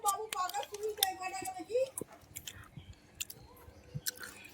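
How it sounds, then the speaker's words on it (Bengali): Someone chews cooked mussels with soft, moist, squishy bites and small clicks, close and quiet, with a person talking over the start. "এই যে আমি খাচ্ছি ঝিনুক"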